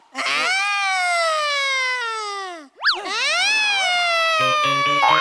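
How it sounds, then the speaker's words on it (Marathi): A long wavering siren wail rises and falls twice, loud and close, swooping down to a dip before climbing again, in a comedy sketch on a Marathi stage show, with a brief pulsing tone at the end. "सायरन वाजला."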